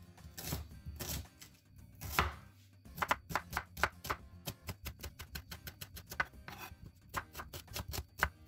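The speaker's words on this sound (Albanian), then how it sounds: "Do t'i presim me 5-6 qep të njoma, varet nga tava që do gatuajmë" A knife chops 5-6 green onions on a board for a baked fish and vegetable casserole, with irregular bursts of sharp close taps speeding into quick rapid strokes, no talking.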